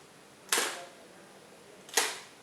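A Pentacon Six camera being wound and fired: two sharp mechanical clack-and-whir bursts about one and a half seconds apart, close and distinct in a quiet room.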